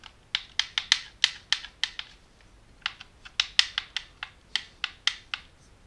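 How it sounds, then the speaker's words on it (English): Computer keyboard keys clatter in quick uneven bursts of closely spaced clicks, close to the microphone, with a short pause in the middle and no voices. "I had to pause it manually on the keyboard."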